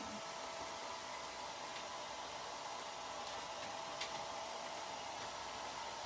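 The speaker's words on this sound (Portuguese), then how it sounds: "Que eu tenho que secar um pouquinho com o secador aqui" A hair dryer blows steadily on a painted lid for a glass jar, a constant close whooshing roar held at even loudness with no talk over it.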